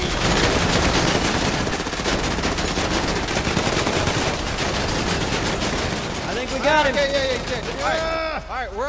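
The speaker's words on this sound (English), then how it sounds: "Why are you shooting at me?" Rapid gunfire in the video game Fortnite, dense bursts of automatic shots crackling almost without pause for most of the stretch, loud and close, with a voice shouting over it near the end.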